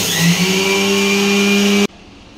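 A blender whirs loudly and steadily as it grinds sugar for Ratnagiri Hapus mango juice, running close up for nearly two seconds before cutting off abruptly into near silence.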